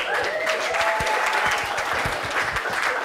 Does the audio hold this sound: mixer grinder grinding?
no